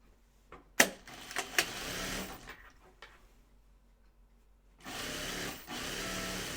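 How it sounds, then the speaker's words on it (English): A home sewing machine stitches the two long sides of a fabric liner into a continuous loop, running in two bursts of steady whirring hum separated by a quiet pause, with a few sharp clicks and clunks near the start. "So I'm sewing this into a continuous circle."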